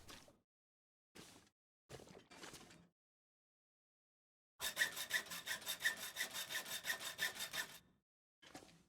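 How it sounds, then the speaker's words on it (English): Hacksaw cutting scrap metal in The Long Dark, a few short isolated strokes and then a run of rapid rhythmic back-and-forth rasps before a final stroke. "Hold on, I got a hacksaw now."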